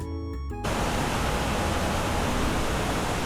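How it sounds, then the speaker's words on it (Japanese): Water released from Ofunato Dam roars in a steady, loud broadband rush that cuts in abruptly after a quieter first half-second and then holds unbroken. "放水の音でウサギちゃんが何話しているかわからないね"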